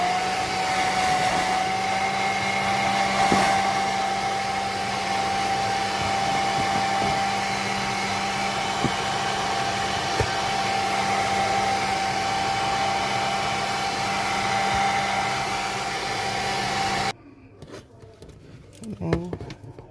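Heat gun warming the screen of a Huawei Nova Y90 phone during a screen replacement: a steady close blowing hum with a faint whine holds for about seventeen seconds, then shuts off, leaving quiet handling clicks.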